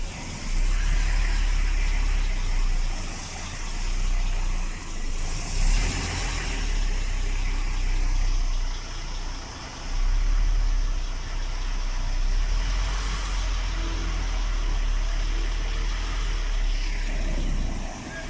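A truck's engine labours with a deep, steady low rumble as it climbs a ramp, the load swelling and easing in waves, with road and wind noise over it.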